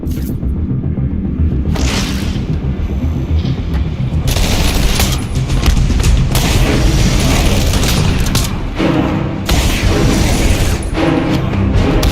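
An explosion and combat din in the Batman Arkham Asylum video game: a loud, continuous wall of booming rumble and crackling blasts that swells and persists throughout.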